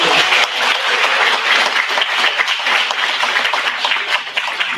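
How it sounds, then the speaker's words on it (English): Audience applause at a regional student video contest award ceremony. Dense, steady clapping from a large crowd fills the whole stretch at an even, loud level and eases slightly near the end. "Let's give another huge round of applause to all of our student teams, all of our participants, all of our companies"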